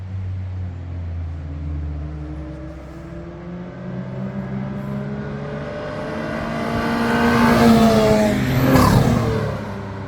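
A car climbs through its gears as it approaches and sweeps past on the Tail of the Dragon mountain road, engine rising from distant hum to a loud, close pass with tire noise near the end.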